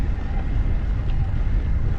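Strong wind roars over the microphone while someone rides an e-bike at high assist into a headwind along a village road, a continuous loud broadband rush with no talking.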